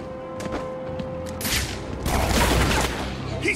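Gunfire from the Batman Arkham City video game crackles in a burst of rapid shots with a heavy rumble, loud and close, over a steady background tone.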